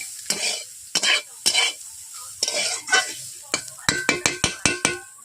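Spatula scrapes and stirs green beans in a sizzling pan, a series of sharp metallic strokes, then a quick run of rapid taps at the edge.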